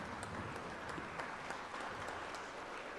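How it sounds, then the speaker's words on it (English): Audience applause for a guest speaker at a live endowment lecture event honouring Saint Dnyaneshwara and Saint Tukaram, a steady, dense wash of clapping held at an even level throughout, fairly quiet and distant. "Please give him a big round of applause"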